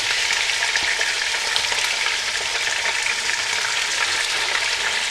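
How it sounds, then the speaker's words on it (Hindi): Chicken pieces fry in hot oil in a pan for chicken korma, giving a steady, close, bright sizzle that continues without a break and has no voices over it. "इसमें अब मैं इस तेल में मैं चिकन डालूँगी और पहले इसे फ्राई करूँगी।"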